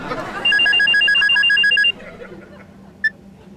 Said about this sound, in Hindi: एक मिनट, फोन आ रहा है, फोन।